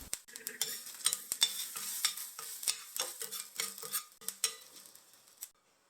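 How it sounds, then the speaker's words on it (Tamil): Mustard seeds and a pinched dried chilli crackle and sizzle in hot oil while being tempered for peanut chutney, with sharp irregular pops and stirring clinks over a steady frying hiss and no talk. "எண்ணெய் சூடானதுக்கப்புறமா 1/2 டீஸ்பூன் கடுகு நல்லா பொரிஞ்சு வந்ததும் 1 காஞ்ச மிளகாயை கிள்ளி போட்டு சேர்த்துக்கோங்க"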